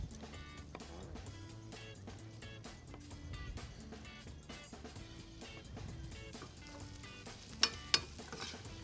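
Sausage browns in a pan, giving a quiet steady sizzle broken by faint scrapes and taps of stirring, with two sharper clinks near the end.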